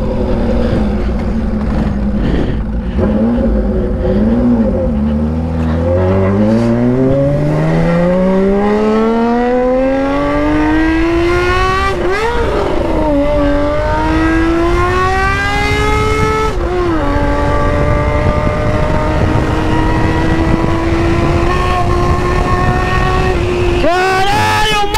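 A 1980 Honda CBX 1050 six-cylinder motorcycle with a stainless 6-into-1 exhaust, loud and close, revving and accelerating hard through rising gear pulls with brief shifts, its high-pitched engine wail filling the ride.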